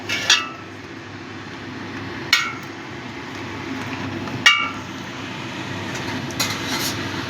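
A metal lid set onto a cooking pan of prawn malai curry, sharp clanks at separate moments over a steady background hum, fairly close.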